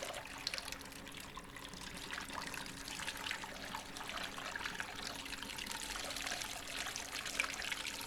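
Fresh wort from a Hazy Pale kit bag pours steadily into a fermenter, a continuous soft trickling stream that stays even and fairly quiet throughout with no talking.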